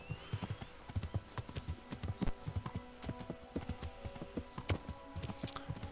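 Horse hooves clip-clop at a steady walking rhythm in the Kingdom Come: Deliverance video game, distinct repeated thuds close by and fairly quiet, with little else around them.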